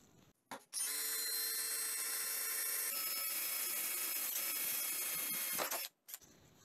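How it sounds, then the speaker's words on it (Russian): A cordless drill-driver on second speed bores through ordinary steel with a 3.5 mm metal bit, a steady high-pitched whine holding for about five seconds between short starts and stops, close and loud with no talking. "Обычный металл, обычную сталь сверлит без проблем."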